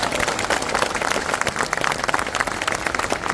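Crowd at a public political rally in Ashoknagar clapping steadily and densely throughout, a sustained wash of applause with no break.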